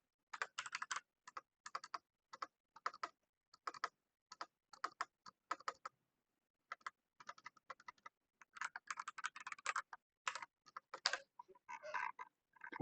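Rapid bursts of computer keyboard typing, clattering in quick runs of keystrokes broken by short pauses, close and clear with no voices.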